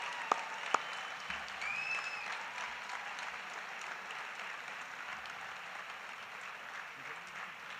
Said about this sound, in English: One more round of applause for the law enforcement torch run and all that it does for Special